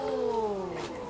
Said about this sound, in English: He is an African serval.